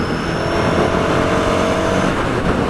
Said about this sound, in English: from that roll of throttle just then, again, it's a small displacement engine